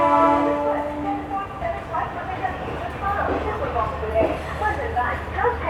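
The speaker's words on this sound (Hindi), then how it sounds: "संतरागछी चेन्नई सुपरफास्ट एक्सप्रेस का अराइवल हो रहा है।" The Santragachi Chennai Superfast Express pulls into Vijayawada station, with a horn sounding at first, then a steady rumble and clatter of rolling carriages under a busy platform and voices.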